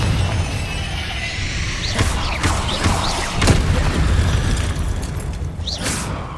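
Confringo fire spell explosions in Hogwarts Legacy, a dense rumbling blast with several sharp crackling bursts and whooshes spread across the clip, loud and close with no talk.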